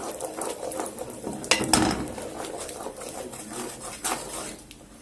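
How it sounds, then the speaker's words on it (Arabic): Butter and a pinch of salt stirred in a pot for caramel pudding, a soft scraping and clinking of a spoon against metal, quiet and close with a few sharper knocks. "هقلبها كويس"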